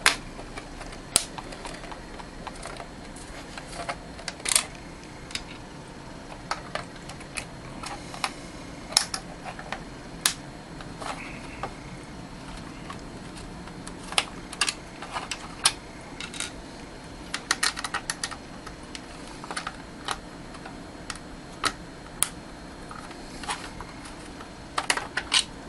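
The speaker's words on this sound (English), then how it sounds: "And we continue taking out the screws." Screws are taken out of a device case one by one, giving small scattered metallic clicks and ticks at close range over a quiet background hum, with no talking.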